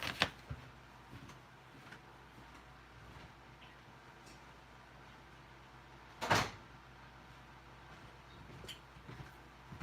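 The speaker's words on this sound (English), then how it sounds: "I gotta close this door." A door closes indoors at home, with a single sharp thud partway through, preceded by a smaller knock at the start, fairly faint against a quiet room background.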